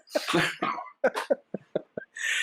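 Several sharp coughs come in quick, irregular bursts, close and loud, with brief pauses and a throat-clearing rasp between them, ending on a short breathy exhale.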